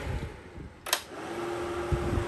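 A Milwaukee M18 PACKOUT fan runs with a steady, airy whirring hum, and a single sharp click sounds partway through.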